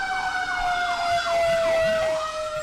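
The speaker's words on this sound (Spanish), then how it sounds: "A esa hora las balizas y sirenas continuaban sonando" Emergency vehicle sirens wail on a city street, loud and close, with several overlapping sweeping tones rising and falling over steady traffic noise.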